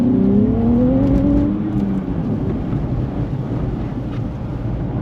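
Strong wind gusts along a Tokyo street during a cyclone with heavy rain, giving a loud, steady low rumble across the whole stretch, with a rising engine tone from a passing car near the start.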